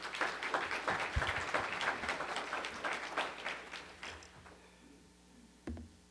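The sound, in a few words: applause welcoming the pastor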